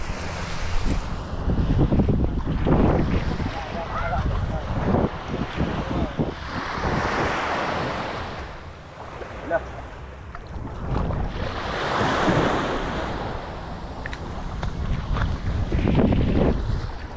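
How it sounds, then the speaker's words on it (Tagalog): At sea, a wooden fishing boat comes back in amid heavy wind and breaking waves. Gusts roar across the microphone in surges, with a low engine rumble and water splashes underneath and no voices. "Dumating na ulit yung isang bangka."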